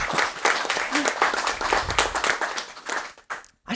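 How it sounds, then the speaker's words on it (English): A gaming event audience applauding after a stage of a New Super Mario Bros. Wii speedrun, a dense burst of clapping mixed with people talking, fading out near the end. "I still love how the audience claps after every stage"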